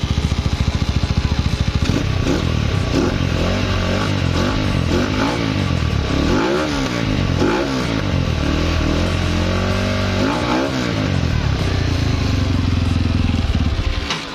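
A Motorstar Xplorer 250 motorcycle with racing stage cams revs hard up close, its engine note sweeping up and down in repeated aggressive bursts over a steady loud idle.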